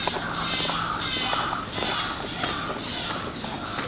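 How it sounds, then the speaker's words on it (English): Several birds call repeatedly in a mangrove forest near Denpasar, harsh chirps and squawks overlapping at moderate distance with steady background ambience. "well, there's a lot of birds out here. You can hear them."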